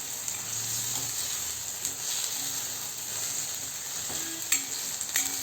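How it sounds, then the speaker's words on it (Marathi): Onion, peas and masala sautéing in a pan for a paneer vegetable dish, a continuous close hissing sizzle with occasional soft stirring knocks, no voices. "आपला आता हा कांदा मटार आणि मसाला छान परतून निघाला"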